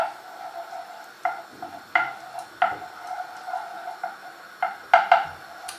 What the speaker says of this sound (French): Je vais incorporer ma cuillère à café de ricotta dans ma sauce tomate